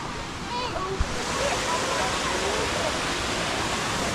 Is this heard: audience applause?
no